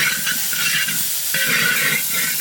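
Masala sizzles steadily in a pan as salt and turmeric are stirred through it for a tomato-based mutton and potato pulao, a continuous close, bright frying hiss with soft scraping from the stirring and no talking.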